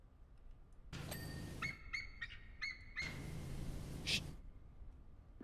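Bird calls in Powerwash Simulator, a few short chirping and whistled notes in bursts over a steady background hum, moderately close.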